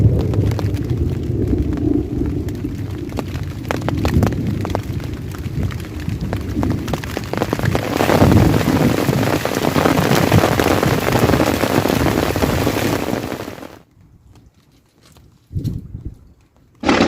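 Heavy rain pours down steadily during an outdoor fishing trip, a loud dense wash of drops that drowns out everything else, then stops abruptly near the end, leaving near silence broken by a couple of short bumps.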